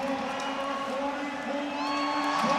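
A home arena crowd at a Colorado versus Winnipeg playoff hockey game roars after a goal, a steady dense wash of cheering under a commentator's continuous talk.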